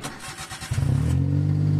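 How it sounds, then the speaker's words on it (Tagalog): A Suzuki Alto engine cranks briefly, then catches and settles into a steady, close idle hum. "Na-start ko na itong makina ni customer."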